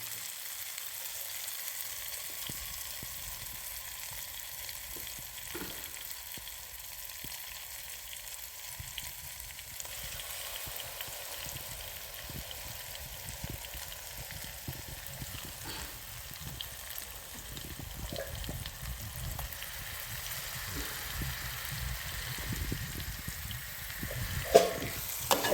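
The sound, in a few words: ground masala paste frying with onions in oil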